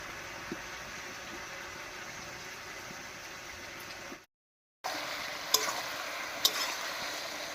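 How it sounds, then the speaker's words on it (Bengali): Bottle gourd is fried with ground spice paste in a pan for a Bengali rohu fish curry, giving a steady sizzle with scraping stirs, a brief silent break, then sharper clinks of the spoon. "এবারে লাউয়ের সঙ্গে খুব ভালো করে কষিয়ে নেব"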